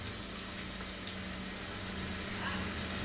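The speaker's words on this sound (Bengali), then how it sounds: "খালি উপরের টুকু আমি একটু মচমচে বাদামি করে ভেজে নিলেই হয়ে গেল।" Chicken nimki pastries frying in hot oil until crisp, a steady close-up sizzle and crackle holding evenly throughout with a faint low hum underneath and no one speaking.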